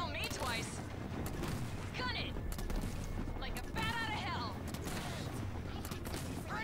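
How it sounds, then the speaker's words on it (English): A Jackrabbit vehicle fires in the real-time strategy game Halo Wars, making repeated rapid mechanical shots under busy battle effects and rising whistling tones. "If you take your Rabbit and you click the floor, let it move it for a second or half a second, and then re-click what you're targeting, it'll shoot faster,"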